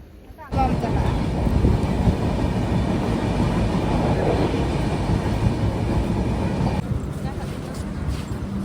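A train rumbles past with a loud, continuous rolling roar and clatter, heard close as if from alongside the track, with wind buffeting and a drop in intensity near the end; voices can be heard as well.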